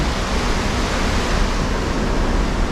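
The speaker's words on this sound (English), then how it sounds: "it's raining, it's pouring." Steady, dense hiss of heavy rain, continuous and even throughout with no pauses or distinct events.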